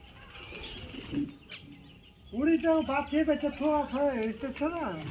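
Murshidabadi pigeons at a riverside ghat make soft, steady cooing and fluttering wing sounds up close, beginning after a quieter stretch of background noise and continuing in rapid, repeated pulses.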